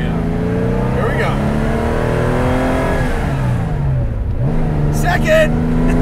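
A 1973 Porsche 914/6 engine revs hard under acceleration, its loud rising pitch climbing through the gears with a dip at a shift, heard from inside the car as voices talk over it.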